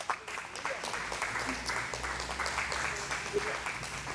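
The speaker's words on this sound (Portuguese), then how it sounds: "Pode aplaudir." Church congregation applauds during a sermon, a sustained moderate wash of clapping that runs evenly throughout with faint voices beneath it.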